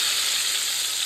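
Ginger and tomato paste dropped into hot oil with tempered spices in a pan, a loud steady sizzle of frying that stays even and close throughout.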